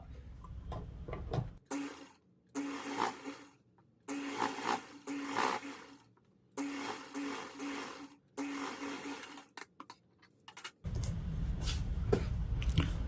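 Sewing machine stitching a folded blouse seam, running in several short bursts separated by brief pauses, with a steady mechanical whir and rapid ticking of the needle close by.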